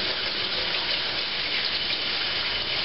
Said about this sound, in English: let me wash my hands real quick.